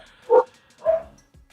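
A dog gives two short, separate barks in a quiet room.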